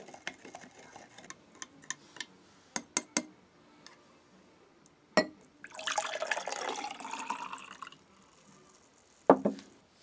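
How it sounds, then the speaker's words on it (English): Stirring a Polish S-R individual ration meal in water: scattered light clinks and taps of a utensil against the container, then a few seconds of swishing liquid and a final clink, quiet and close. "And we'll give this a stir."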